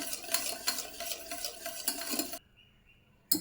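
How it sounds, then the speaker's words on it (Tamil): A boiling milk mixture for homemade ice cream being stirred in a pot, rhythmic close scraping strokes over a low bubbling, then an abrupt near-silence before a final clink. "கைவிடாமல் கிளறுங்க"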